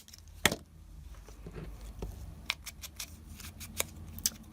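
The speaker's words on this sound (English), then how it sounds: "I'm going to pull out my pinking shears and just cut around them" Pinking shears snip through card stock in a series of crisp, close cuts spaced irregularly, each a short papery crunch with quiet pauses between.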